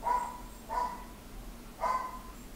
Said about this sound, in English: my dog's bark so much.